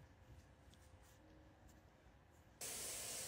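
Insl-X Stix primer sprayed onto a pine dresser inside a spray tent, a sudden loud, steady hiss starting near the end after quiet room tone.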